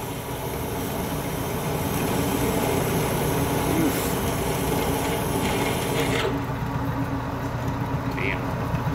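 A lathe grinds and rasps continuously as a drill bit bores into ugly, hard-to-drill metal for a tool post nut, a steady coarse scraping drone that eases off near the end.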